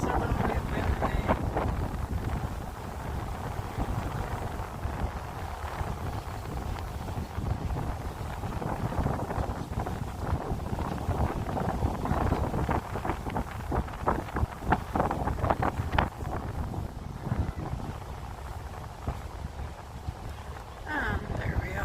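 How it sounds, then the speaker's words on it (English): Steady wind buffets the microphone aboard a boat on a trip back from Southend-on-Sea, a constant roar with gusts and no break. "And it's suddenly windy."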